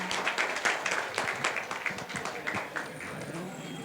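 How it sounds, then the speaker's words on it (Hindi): An audience at a Lions Club eye camp closing and honour ceremony in Bhopal bursts into applause, a dense patter of clapping that fades off toward the end. "जोरदार तालियां।"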